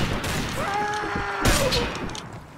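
A few gunshots in the video game Mount & Blade Warband with its 1860s mod, including one loud sharp report midway, heard over a busy battlefield din with faint tonal game sounds.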